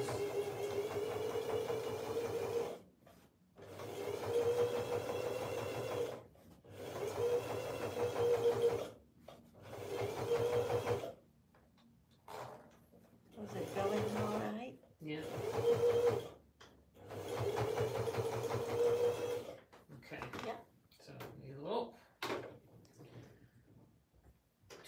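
A sewing machine top-stitches a fabric pencil case, running in steady whirring bursts of several seconds each with short pauses between, close and fairly loud, with people talking quietly in the gaps.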